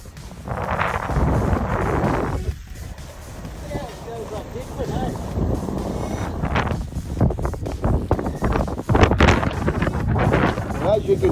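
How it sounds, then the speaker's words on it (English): Strong wind gusting outdoors on an island 4x4 trip, heavy rumbling buffets hitting the microphone in uneven bursts, with someone talking through much of it. "As you can hear, it's very, very, very windy here."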